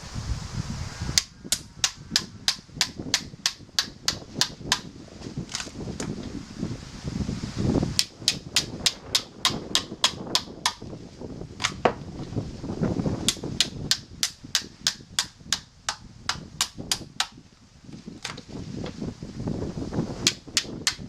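Hammer blows drive a chisel down a thick, wet log that has sat outdoors for about three months, with sharp metallic strikes coming in rapid bursts, nearby and loud, separated by short pauses.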